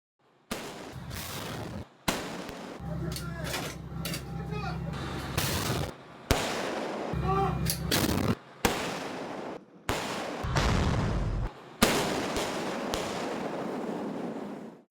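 K9 self-propelled howitzers firing live rounds at the Cheorwon artillery range during an Army 5th Artillery Brigade exercise, with heavy booming blasts across several abruptly cut segments.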